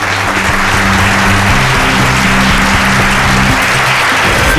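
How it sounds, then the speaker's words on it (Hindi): Studio audience applause during a crime drama TV show, a steady dense wash of clapping that stays loud and continuous throughout with no voices. "तालियां।"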